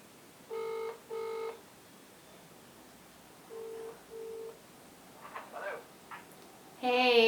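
A telephone is dialled with several short electronic beep bursts in pairs and clusters, separated by quiet gaps, followed at the end by a louder warbling ring tone from a call to a mother.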